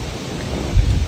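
Strong typhoon wind on a farm roars against the microphone in a heavy low rumble, swelling near the end.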